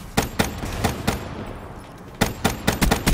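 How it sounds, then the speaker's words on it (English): Rapid bursts of gunfire from the Shiva gun in a gun-game match, sharp repeated shots in quick clusters with a short lull midway, loud and close. "Did they add rapid fire to the Shiva"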